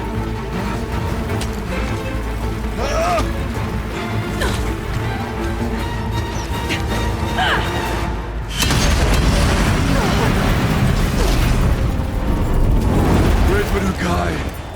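Explosive ammunition detonates in the action game Horizon Zero Dawn: Frozen Wilds. Heavy, booming blasts and mechanical clatter build to a sudden, louder eruption partway through, followed by a sustained rumbling roar.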